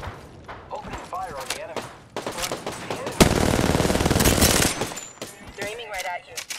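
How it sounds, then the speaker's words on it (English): Rapid automatic gunfire from the video game Predator: Hunting Grounds, a loud sustained burst of machine-gun fire lasting a couple of seconds, with players talking before and after it. "Opening fire on the"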